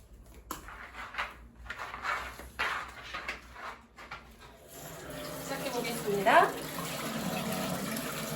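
A tap runs steadily into a sink while hands are washed. A voice speaks at first, then a continuous close splashing flow takes over for the rest.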